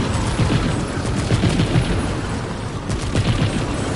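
An infinite-ammo pistol that overheats fires in Remnant 2, a dense, continuous volley of rapid shots layered with booming game effects, loud and steady for the whole stretch.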